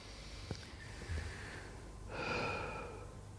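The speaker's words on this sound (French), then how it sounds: "Encore quelques respirations pour vraiment bien bouger un petit peu la tête" Deep snorting breaths drawn in and pushed out during a breathing and vocal relaxation exercise, a few close, quiet intakes and exhalations with no talking.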